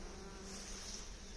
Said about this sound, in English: this is the swarm I caught last year